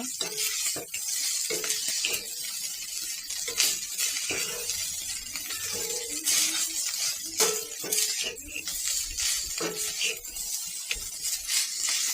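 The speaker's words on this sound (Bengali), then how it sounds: "এখানে আমি রাইস ভাজতেছি, ভাজা প্রায় কমপ্লিট হয়ে গেছে।" Rice being fried in a pan for breakfast, a constant close sizzle broken by repeated scraping and clinking of a spatula or spoon against the pan in an uneven stirring rhythm.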